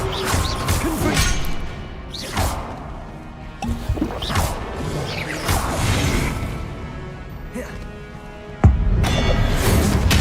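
The Confringo spell is cast in the video game Hogwarts Legacy, giving a series of fiery whooshes and crashing blasts with a sharp, loud impact near the end.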